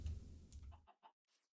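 Soft clucks from a baby chicken in Minecraft: two or three brief, faint clucks follow a short stretch of louder low background noise, then fade out.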